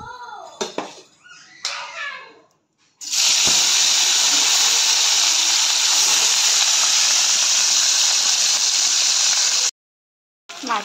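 Fish frying in mustard oil, a loud steady hiss of sizzling that runs for several seconds before cutting off, after a voice and other talk at the start.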